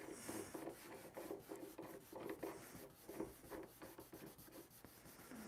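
Hand sanding of bench trim on an airplane gives a steady, close, rhythmic rasping scrub, stroke after stroke at an even pace, with no talking over it.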